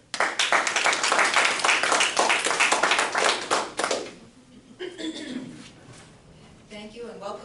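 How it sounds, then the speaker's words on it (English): A room of people at a neighborhood organization meeting in a library claps in a dense, loud burst of applause that lasts about four seconds and then fades. Speech and quieter room noise follow. "can you give me a warm round of applause for Elizabeth and Deb?"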